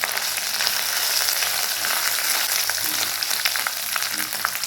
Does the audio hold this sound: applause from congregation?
no